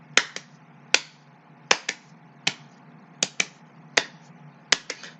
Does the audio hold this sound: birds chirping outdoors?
no